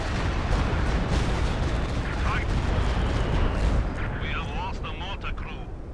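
A Stuka dive bomber attacking in a video game, with a continuous heavy roar of explosions and rumbling impacts, and a rising siren-like whine near the end, loud and dense; a voice talks over it.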